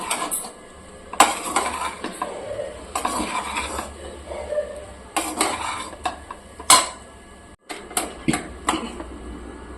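A spoon stirs cauliflower fried rice with salt in a metal pan, making repeated close scraping clinks and knocks in irregular bursts with short pauses between strokes.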